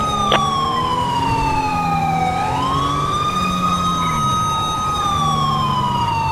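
A California Highway Patrol siren from the LSPDFR police game wails loudly and continuously during a pursuit, its pitch sweeping down and back up over a low vehicle rumble.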